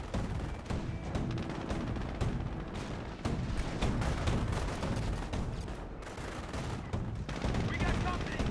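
Dense battle gunfire from the strategy game Company of Heroes: rapid machine-gun bursts and heavier blasts overlap continuously and loudly, mixed with explosions, with no clear speech over it.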